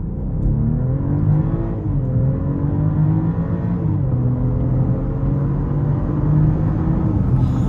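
A 2026 BMW X7 xDrive40i M Sport Pro accelerating hard, its engine a steady, rising rumble heard from inside the cabin, loud and continuous with no talk.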